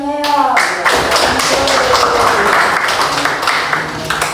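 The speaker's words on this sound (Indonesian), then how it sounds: "tepuk tangan dulu untuk temannya ya" Students in a classroom clap for a classmate, giving a brief, close burst of hand claps and taps that starts right after a teacher's voice and continues with scattered claps.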